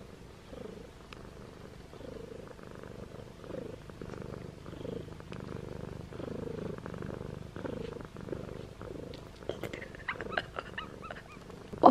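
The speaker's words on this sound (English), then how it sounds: "listen to this adorable cat purring right beside me" A steady, low cat purr rumbles close by for several seconds, with a few light clicks and rustles near the end.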